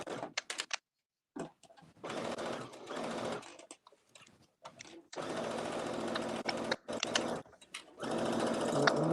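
A sewing machine bastes the lining around the top of a skirt in a series of close, fairly loud whirring runs of varying length, broken by short stops and light clicks.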